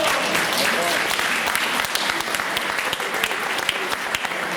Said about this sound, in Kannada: ಜೋರಾಗಿ ಚಪ್ಪಾಳೆ ಬರ್ಬೇಕು